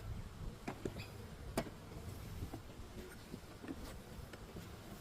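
Honey bees buzz faintly around an open orange hive during a mid-spring inspection, with occasional sharp clicks and knocks from handling the frames over a low, steady hum.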